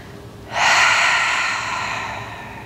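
A deep breath drawn in sharply during a Pilates leg stretch, starting suddenly and then held as a loud, close airy rush that slowly eases off, with no voice over it.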